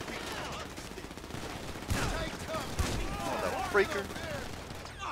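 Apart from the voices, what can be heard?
gunfire in GTA V video game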